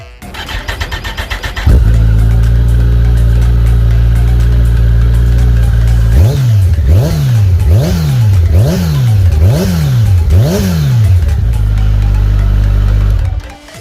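A 2019 Kawasaki Ninja ZX-14R Ohlins Edition sport motorcycle, lightly used and modified, starts and settles into a loud idle, then gets a series of about six sharp throttle blips in quick rhythm before returning to idle.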